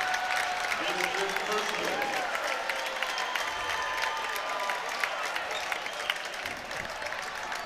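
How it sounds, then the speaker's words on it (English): Home crowd at a high school boys' district semifinal basketball game applauds as a player fouls out, sustained clapping and some cheering filling the gym, with an announcer talking over it. "the Shelby faithful giving the freshman a nice round of applause as he exits the game"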